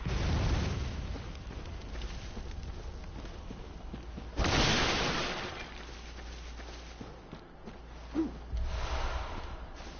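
Cannon fire and explosions in a PS4 action game, heard as a loud burst around the middle and a sharp pop near the end, over steady game ambience.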